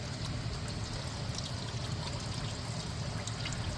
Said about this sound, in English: that oil comes out fast, super fast